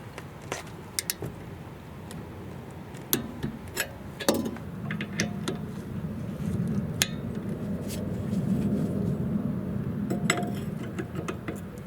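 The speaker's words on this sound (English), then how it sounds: "Now we will use the torque wrench to tighten these bolts." A torque wrench tightening rear brake bolts to 25 foot-pounds on a 2019-2026 Lexus UX. Sharp, scattered clicks and ticks sound close by over a steady low workshop hum.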